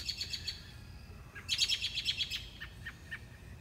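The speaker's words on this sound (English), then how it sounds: "What is the deal with the bird?" A bird chirps outdoors near a mailbox, sending bright repeated chirps in short bursts, with a denser run of quick notes in the middle against a quiet background.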